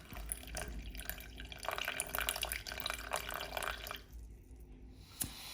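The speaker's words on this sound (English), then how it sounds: "Then added just enough water to cover it, with a few bits of the ingredients poking out." Water pours into a camping pot of dehydrated chicken madras, a close, uneven splashing and trickling that ebbs and surges and ends in a few small drips and a light knock.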